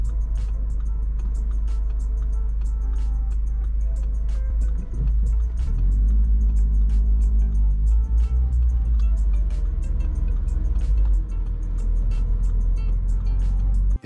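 A car turns left at an intersection, its interior carrying a steady low engine and road rumble. A brief swell of engine and tyre noise comes partway through, and a soft ticking, likely the turn indicator, repeats throughout.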